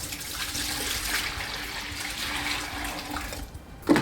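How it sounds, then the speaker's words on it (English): Hot water poured into a container holding shampoo, a steady splashing, trickling stream lasting several seconds before a brief clunk at the end, close and alone. "Put your hot water in there."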